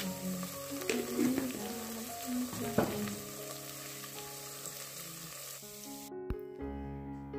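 Onion, cinnamon and cloves fry in oil for a vegetable pulao, giving a steady sizzle with occasional stirring clinks, close and moderately loud, with a sharper hiss near the end.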